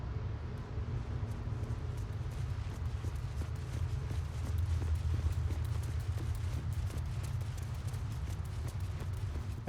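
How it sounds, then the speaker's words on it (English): Armored character footsteps in Baldur's Gate 3, a steady run of soft clip-clopping steps with faint jingling armor foley over a low ambient bed, with no voices. "The different Foley sounds, depending on the armor the character is wearing."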